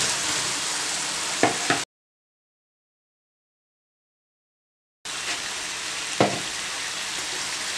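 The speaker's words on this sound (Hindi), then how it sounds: "अब साथ आप आलू भी डाल दें इसमें" Potatoes frying in a masala mixture in a pan for an aloo lemon masala dish, a steady broadband sizzle with brief stirring clatters, cut off by a stretch of silence before the sizzling resumes.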